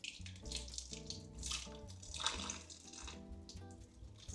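Water drains from wet paper pulp through a sieve with steady trickling and splashing, heard faintly beneath a tonal music bed.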